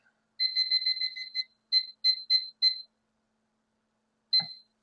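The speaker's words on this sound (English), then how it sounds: "I'm going to set my timer here real quick." A kitchen timer is set while keto Kentucky Derby Pie dough is prepared, giving a quick run of clean electronic beeps, then four separate beeps, a pause, and one final beep with a faint click.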